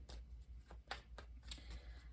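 A tarot card deck is shuffled up close in a series of quick riffling bursts, soft and papery, with short pauses between them.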